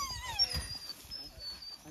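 A dog whines and wails in high, drawn-out tones while out hunting rabbits, fairly faint and mixed with soft background noise.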